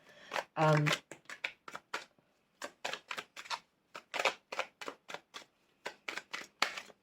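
A Radiant Rider-Waite tarot deck being shuffled by hand, with a quick run of crisp card riffles and flicks close to the microphone, sharp irregular bursts separated by brief pauses, with a voice talking over them.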